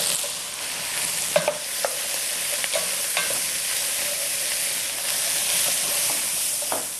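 Carrot, onion and fennel mirepoix sizzles steadily as it browns in a pot, a constant frying hiss with occasional stirring scrapes and small pops, close and even throughout.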